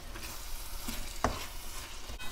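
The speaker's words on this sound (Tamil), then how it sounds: "இப்போ தக்காளியை நல்லா வதக்கிடலாம்." Tomatoes and onions sauté in a pan for Chettinad-style chicken, with a faint, low sizzle and one sharp scrape of a spoon near the middle.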